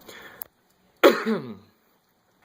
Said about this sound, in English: Sorry, I got this cough I can't seem to get rid of